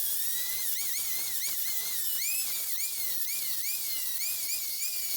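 A steel sickle blade made from leaf-spring steel is polished with grit 60 stacked sandpaper on a rotary tool, producing a steady, high-pitched whining grind that rises and dips in pitch as the load changes, with no talking.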